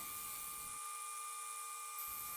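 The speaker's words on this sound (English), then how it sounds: "The best way I found to drill these is to drill down on one side" High-pitched, steady whine of a small rotary bead cutting tool drilling into a wooden bead, close and continuous, with no talking.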